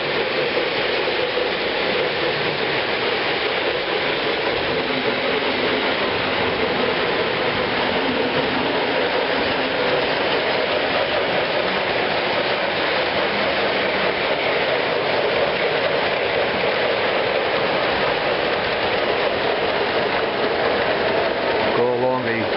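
A freight train running along the main freight line below staging yards, a steady, unbroken rolling rumble held at an even level for the whole stretch.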